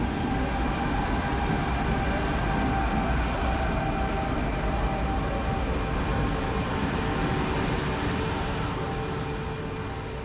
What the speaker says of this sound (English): It's a Pendelino SuperCity train of the Czech state-owned railway company Czech Republic.